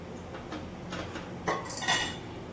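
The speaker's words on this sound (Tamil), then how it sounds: "இப்போ மீன் போட போகிறேன்." Pieces of kaanaangathai fish go into a pot of boiling tamarind fish curry. A few metallic clinks and knocks of utensils against the pot sound close by, with two sharper hits near the end.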